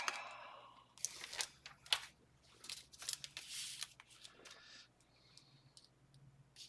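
Scissors snip and crunch through stiff vellum still on its backing sheet, a close series of uneven cuts and crinkling rustles with brief quiet gaps.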